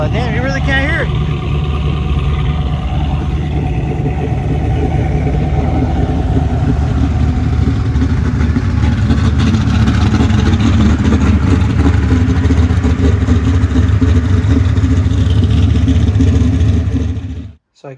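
A Shelby Cobra-style race car idles just after being fired up: a loud, steady, rumbling engine drone holds for the whole stretch, then cuts off abruptly at the end.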